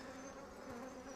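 Bees swarming around an opened hive during a brood inspection, a steady droning buzz holding throughout at moderate loudness with no voices.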